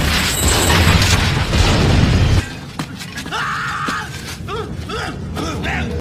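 A building blown up in a film scene: a loud, broad roaring blast rumbles for about two seconds, then cuts to quieter debris clatter and soft tonal sounds.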